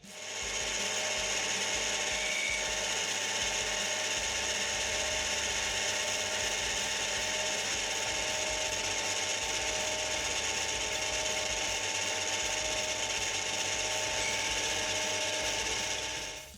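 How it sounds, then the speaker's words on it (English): A metal lathe faces down the top of a steel clamp for machinist V-blocks, giving a steady, loud whirring, grinding cut that holds evenly for about sixteen seconds with a persistent high metallic whine and no voices. "back to the lathe to bring the top face down to match the bolt head"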